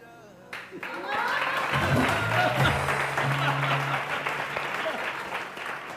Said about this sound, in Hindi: आप लोगों को तालियां बजानी है